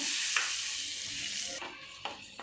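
Flour gets stirred into a chicken mixture in a hot pan, with a soft continuous sizzle and a few sharp scrapes of the spoon against the pan, close up and without speech.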